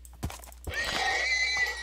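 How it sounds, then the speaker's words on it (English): A horse in the video game Minecraft gives a loud, wavering neigh that rises and trails off over about a second, following a couple of soft thuds. "God, I hate the sounds the horses make."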